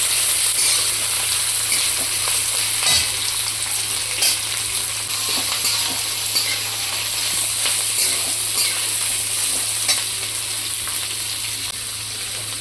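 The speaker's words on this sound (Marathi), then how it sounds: "कोबी, मिक्स करून घेऊया." Cabbage and noodles sizzle steadily in a hot pan while being stirred and mixed, a dense continuous frying hiss with occasional scraping clicks, fairly loud and close, no talking.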